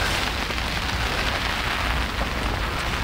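Steady rain falls outdoors during a carp fishing trip with a feeder rod, a dense, even hiss of drops hitting surfaces that fills the whole stretch without pause, with no voices over it.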